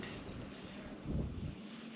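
Wind gusting across an exposed mountain peak on a hiking trail, a steady low rumble buffeting close against the microphone with a stronger gust midway.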